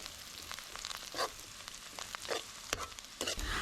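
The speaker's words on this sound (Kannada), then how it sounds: "ಫಸ್ಟ್ ಸಾಸಿವೆ ಹಾಕ್ಕೊಂಡು ಚಟಪಟ ಆದಮೇಲೆ ಈರುಳ್ಳಿನ ಹಾಕ್ಕೊಂಡು ಫ್ರೈ ಮಾಡ್ಕೊಳ್ಳಿ" Onions frying in hot oil with crackling mustard seeds for a coastal-style marvai (clam) sukka, a close, steady sizzle with sharp pops and spatters and no talking.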